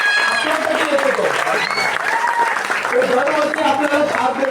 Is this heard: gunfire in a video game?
no